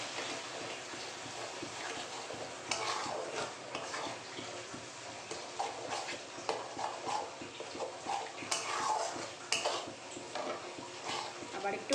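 Marinated fish roe going into a pan and being stirred, quiet scraping and clinking of a utensil against the pan with a soft sizzle underneath.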